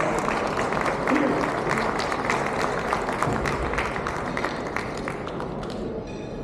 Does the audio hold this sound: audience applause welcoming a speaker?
yes